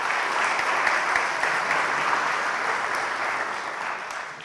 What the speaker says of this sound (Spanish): un aplauso por su persistencia.